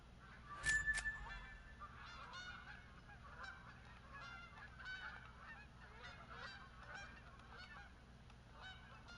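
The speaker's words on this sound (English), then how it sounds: "Those those same geese?" Geese honking in the hunting game theHunter: Call of the Wild on Askiy Ridge, a burst of calls early on and then fainter, scattered honks over a steady outdoor ambience.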